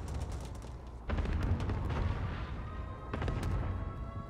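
Cluster strike explosions in a multiplayer shooter video game: a dense rolling barrage of booms and crackles arrives in two waves, like the end of a fireworks show, over a low background rumble.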